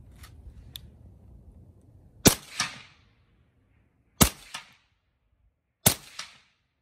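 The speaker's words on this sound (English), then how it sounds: "We just converted our FS2000 to full auto, and this is the first test fire." FS2000 rifle converted to full auto, test fired outdoors: three sharp, loud reports spaced a couple of seconds apart, each a quick double crack fading into a short echo, after a low murmur at the start.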